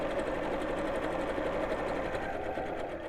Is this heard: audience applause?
no